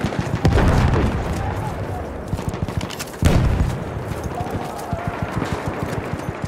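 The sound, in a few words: grenade explosion and gunfire in video game Battlefield 1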